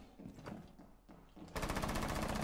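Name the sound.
gunfire in a video game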